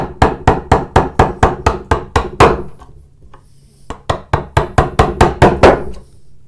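A large chisel struck by hand to pare wood while cutting a butterfly bowtie inlay: two runs of rapid, evenly spaced sharp knocks, close and loud, separated by a short pause.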